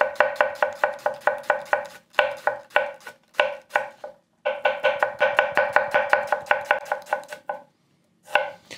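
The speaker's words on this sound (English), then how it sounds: "it certainly helps with this up and down chopping" A Japanese petty knife chops onions on a board in rapid, steady up-and-down strokes, close and crisp, coming in runs broken by brief pauses, with no talking.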